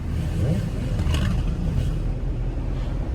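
A steady engine rumble with a rising rev, as motorcycles pass close by, loud at first and easing off slightly toward the end.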